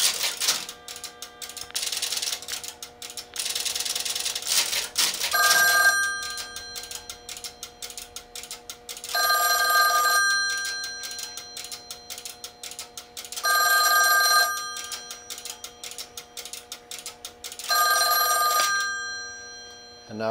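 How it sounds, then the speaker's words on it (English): A real telephone on an extension of an OKI AC125A crossbar PBX rings in four bursts with pauses between them, amid steady clicking and ticking from the switch relays. "I'm going to call an extension 60, which is actually connected to a real phone, and we'll hear it ring"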